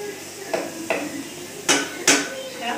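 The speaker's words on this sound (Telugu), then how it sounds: "అడుగంటకుండా ఇట్లా తిప్పుకుంటూనే ఉండాలా అండి కొద్దిసేపు" Chicken masala being stirred as it fries in oil in a pan, with a spoon clanking and scraping against the metal several times in irregular strikes over a low sizzle.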